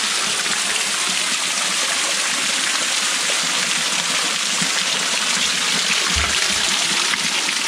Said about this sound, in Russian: А мы попытаемся залезть чуть выше под водопад, вот сюда.